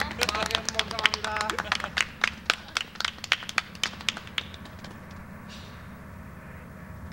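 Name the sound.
people clapping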